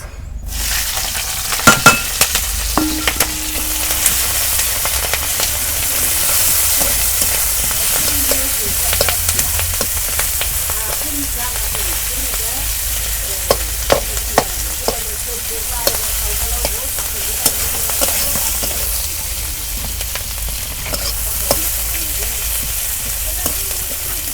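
Steady sizzling of taro stolons frying with chopped onion and green chili in a pan, with the scrape and clatter of stirring repeating throughout, and no talking.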